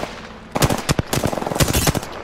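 Rapid automatic gunfire in a video game, two close, loud bursts of evenly spaced shots separated by a brief pause, with no talking over them.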